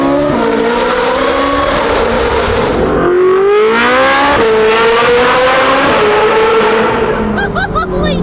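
A Ferrari 458 V8 fitted with F1-style race headers screams through the gears to about 9,000 RPM nearby, pitch climbing and dropping with each shift, loud and echoing inside a tunnel.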